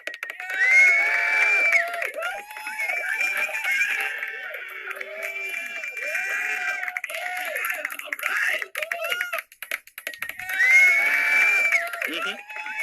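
A studio audience cheers, whoops and claps through the whole stretch, loud and sustained, with shouting voices rising in waves near the start and again toward the end.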